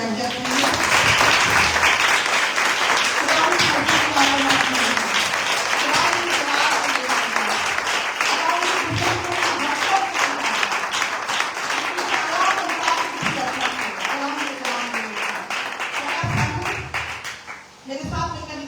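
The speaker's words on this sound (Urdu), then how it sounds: "آئیے تالیاں بجائیں گے." A church congregation claps together in sustained applause at a worship service, steady and full for most of the stretch, then thinning out near the end.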